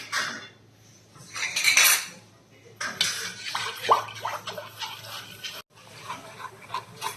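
A spoon scrapes and clinks against a metal pot as milk is stirred on the stove for a kunafa dessert, in irregular close bursts with short pauses and a brief gap near the end.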